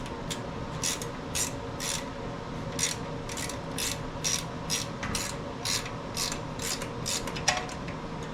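A ratchet wrench clicks steadily as it turns bolts on a PowerHorse 4000-watt generator that has sat unused and won't run, with a fast, even series of close, crisp ratcheting bursts and no talking.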